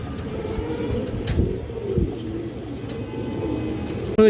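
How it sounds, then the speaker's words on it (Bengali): Gorra pigeons coo in low, rolling, repeated calls at close range, the soft warbling continuous and steady, with a brief louder bump at the very end. "দেখেন পিওর গররা কবুতর"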